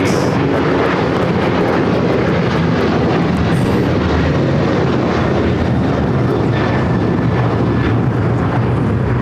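An All Nippon Airways Boeing 787-9 Dreamliner inbound from Tokyo Narita approaches LAX, a loud, steady broadband jet roar that holds without letup, with no voices.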